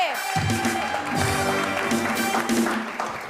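Studio audience applause for the bride's mother on a televised wedding-day show, a steady wash of clapping that fills the whole clip with music-like tones running underneath.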